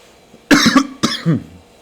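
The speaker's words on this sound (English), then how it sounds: "excuse me if I keep coughing" Two close, harsh coughs in quick succession, loud and near, the second trailing off into a short throaty rasp.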